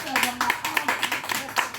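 A church congregation claps together in quick, regular bursts, roughly a dozen sharp hand claps in under two seconds, loud and close, with voices mixed in.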